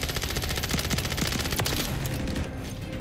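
Sustained automatic gunfire from a 50-round magazine in a tactical shooter video game, loud and dense, with rapid repeated shots over about two and a half seconds before tapering into a quieter tail.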